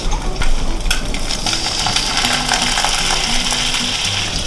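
Water hits a hot frying pan of eggs and bursts into a loud, continuous hiss and sizzle that holds steady for several seconds, close and bright, with no talking.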